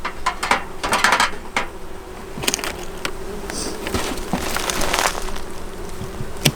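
Honey bees swarm and buzz around an opened beehive as it is taken apart for inspection, a dense, steady hum close by with scattered louder passes of individual bees and a few light clicks of hive equipment.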